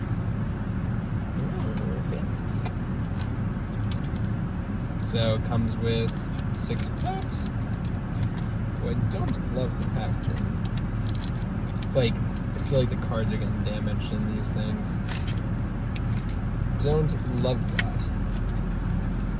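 A car engine idling steadily while the car defrosts in freezing rain, a constant low rumble running throughout under a person talking and rustling card packaging close by.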